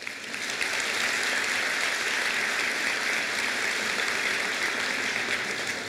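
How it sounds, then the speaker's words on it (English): A large crowd at a college convocation bursts into sustained applause, a dense, even roar of clapping that holds steady for several seconds with no talking over it. "yes, please applaud for that."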